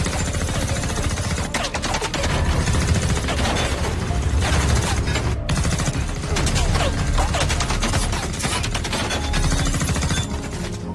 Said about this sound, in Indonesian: langsung menembakinya.